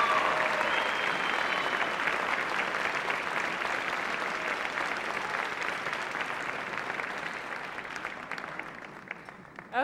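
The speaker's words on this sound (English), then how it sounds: "Ladies, give them a round of applause." A crowd applauds at the Miss Ohio 2010 pageant as the contestants stand onstage. The clapping is sustained and fairly loud, then slowly thins and fades toward the end.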